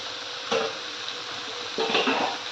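Finely chopped cabbage is stirred in a pan, with two distinct clinks of a spoon against the metal over a soft, steady background hiss.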